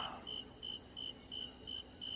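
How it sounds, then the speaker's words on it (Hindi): Crickets chirp in a steady, evenly pulsed rhythm on a night soundscape, a continuous high trill repeating several times with no clear frog croaks emerging. "रह रहकर झिंगुर और कहीं से मेंढकों के टर्राने की आवाजें आ रही हैं।"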